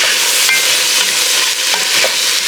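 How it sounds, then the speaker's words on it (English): A mix and chop tool breaks up and stirs ingredients for homemade vegetable beef soup in a hot pot, with loud, steady sizzling and a few scraping strokes running throughout. "I'm just using a mix and chop to break everything up"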